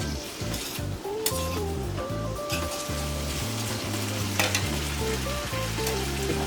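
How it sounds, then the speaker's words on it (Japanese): Boiled pasta tossed in sauce in a frying pan for a saury and kabosu pasta, sizzling steadily up close with continuous stirring and clattering of pan and utensils throughout. "茹で上がったパスタを入れてソースをよく絡めます"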